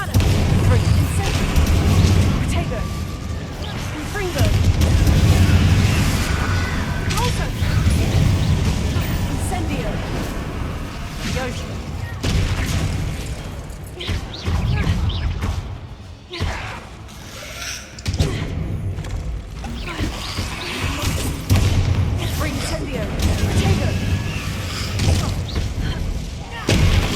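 Spell explosions and blasts from the Hogwarts Legacy video game, a dense barrage of booms and bursting impacts running throughout, loud and layered over game music.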